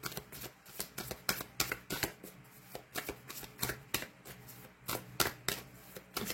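Tarot cards being shuffled and drawn in a reading: a steady run of crisp, close riffling flicks and soft slaps repeating every fraction of a second for several seconds, alone without talk.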